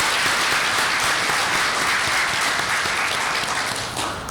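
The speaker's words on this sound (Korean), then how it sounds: "여러분 김 학장님께 박수 좀 부탁드리겠습니다" Steady, dense audience applause fills a conference hall at a Korean energy forum, continuous and loud for the whole stretch with no speech over it.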